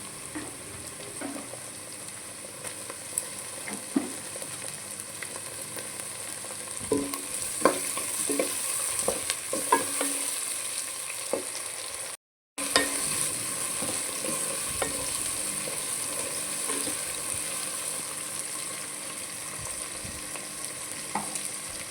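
Two tomatoes fry and are stirred in a pan for a brinjal dal curry, a steady soft sizzle broken by scraping and clinking of the spoon, with a brief dropout midway.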